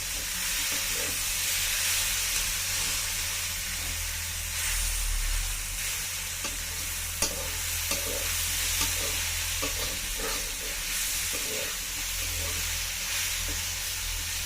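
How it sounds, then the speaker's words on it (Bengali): Chopped onion and garlic sizzle steadily in a pan, a continuous close hiss with occasional stirring clicks and scrapes, no voices. "এখন আমি এগুলো ভালো করে ভেজে নেব।"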